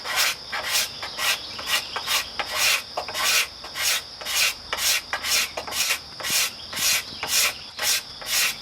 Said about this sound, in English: You just cock that scraper.